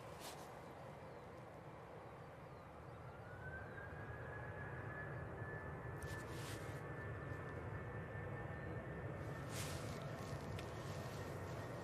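A Dreamliner at Manchester Airport produces a low, distant engine drone with a rising whine that builds from midway, punctuated by a few brief bursts of noise.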